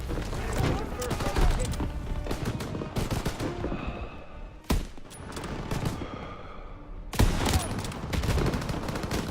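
Rifle gunfire in Call of Duty WW2 battle against SS soldiers, rapid loud sharp shots in bursts with heavy echoing fusillade and a few pauses, voices talking in between.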